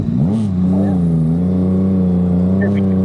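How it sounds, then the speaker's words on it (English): An engine revving, with a low steady drone that rises in pitch early and then holds a sustained hum, loud and close, while a speaker talks over it. "Certainly sounds good, doesn't it? That engine."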